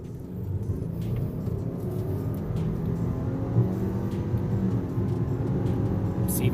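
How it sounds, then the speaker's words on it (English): A 2021 Subaru Evoltis Touring crossover with a CVT accelerates hard from a standstill toward 100 km/h, giving a steady, moderately loud engine drone and road rumble heard from inside the cabin. "So now we're going to do one of our quick 0 to 100 runs."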